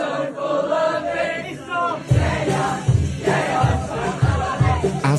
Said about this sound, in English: the crowd singing the new single during a live performance